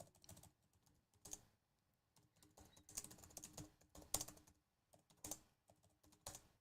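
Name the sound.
computer keyboard keys clacking while typing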